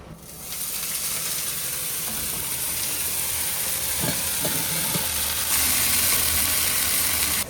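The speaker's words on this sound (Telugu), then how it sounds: "ఈ రొయ్యలు వేయించుకుందాం" Dried prawns sizzle and fry in hot oil for an egg curry, a steady, close hiss with a few soft stirring knocks partway through and a louder, brighter crackle near the end.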